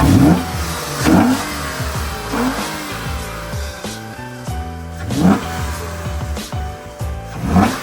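A 2011-20 Toyota Sienna 3.5L minivan engine fitted with a cold air intake revving repeatedly, rising and falling in several loud surges with a throaty intake roar between idle stretches.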